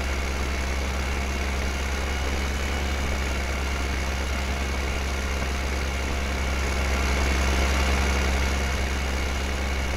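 A tractor engine idles and runs steadily in Farming Simulator 2015, a constant low droning hum with no breaks, loud and close throughout.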